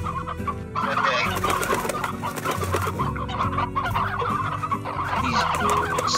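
Hens clucking in the video game Slime Rancher, a dense continuous chorus of cackling fowl, loud and close, with repeated rising clucks throughout.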